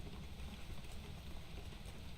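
Steady rain falls throughout, a dense even hiss close by with no pauses and no voices.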